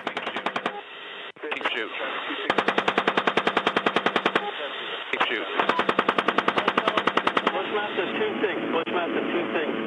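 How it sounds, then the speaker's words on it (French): A US Army helicopter cannon fires over Baghdad in 2007. Repeated rapid bursts of heavy automatic fire come through a narrow, radio-like channel, with crackling radio voices between and beneath the bursts. "des rafales de canon comme dans un jeu vidéo"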